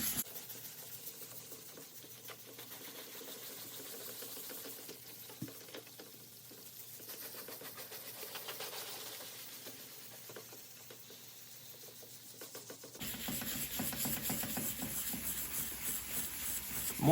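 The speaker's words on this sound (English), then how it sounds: "I think this is like a 900 grit sanding block" Wet sanding the plastic domes of a light bar with a 900 grit sanding block, a soft steady scrubbing rub that continues without a break before turning harsher and louder near the end.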